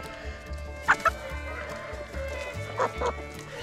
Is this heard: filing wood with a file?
no